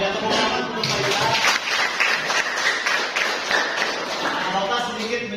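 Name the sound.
applause for Faisal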